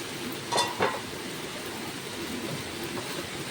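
Potatoes with spices cooking in a pan, a steady soft sizzle throughout with a couple of brief clinks or stirring scrapes early on, no talk.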